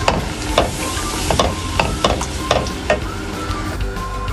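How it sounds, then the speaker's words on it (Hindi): Cold milk poured slowly into a flour roux for mac and cheese, with repeated light stirring scrapes and a soft sizzle from the pan, close and steady. "यहाँ पर मेरे पास ठंडा दूध है तो ये मैं इसमें ऐड करूँगी आराम आराम से"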